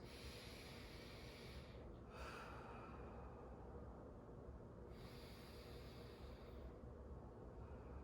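Deep breathing held through a glute squeeze at the top of a floor stretch, a few slow, faint breaths over steady background hiss, with no talking.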